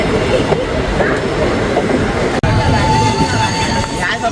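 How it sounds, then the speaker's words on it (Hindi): Passenger train pulling out of Bimalgondi railway station on the Chhindwara to Nagpur line, loud rumbling wheels and carriage rattle heard from on board, with a brief clunk and a thin squeal later. "देखो अब हमारी ट्रेन बिमालगोंडी से निकल रही है"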